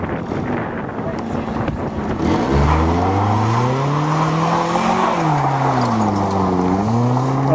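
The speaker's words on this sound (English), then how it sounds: "Show us some burnout potential. Keep it in first gear." A 1992 Toyota Corolla doing a burnout on a farm, its engine revving up in first gear with a loud, rising and wavering roar and wind buffeting close to the microphone.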